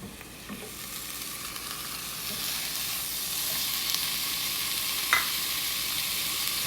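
Ground beef added to a pan of frying onion and garlic, a steady close sizzle with occasional stirring scrapes and one sharp clack near the end, no voices.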